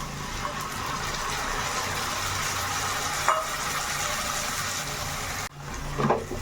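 Onions frying in a pan for pointed gourd curry, a steady low sizzle with a brief stir near the end, fairly quiet and continuous.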